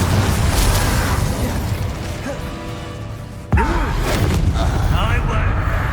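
The Incendio fire spell from Hogwarts Legacy bursts out with a sudden whooshing blast midway, following a sustained roar of magical combat effects; a voice speaks over the action.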